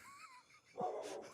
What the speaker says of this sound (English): It's fine if she barks.